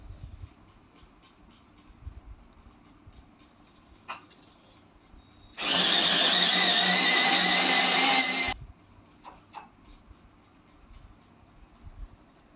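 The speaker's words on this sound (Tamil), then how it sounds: "இப்போ இந்த கருவாட்டுக்கு 2 பெரிய வெங்காயம் எடுத்து வச்சுருக்கிறேன். அது சாப்பரில் போட்டு எடுத்துக்கலாம்." Electric chopper chopping two big onions for a dried-fish dish in a kitchen: a single loud burst of whirring motor noise lasting about three seconds, framed by quiet handling clicks and low room sound before and after.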